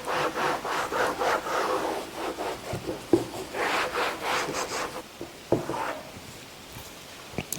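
A clean rag rubbed back and forth across a car dashboard, repeated close scuffing strokes in an uneven rhythm with brief pauses and soft knocks.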